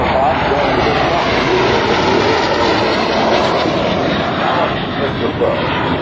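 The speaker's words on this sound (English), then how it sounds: "L-39, the Soviet Jet Albatross." A Soviet-built L-39 Albatros jet flies past at the 2006 Willow Grove air show, a loud, steady roar that fills the whole stretch, with a public-address announcer talking over it.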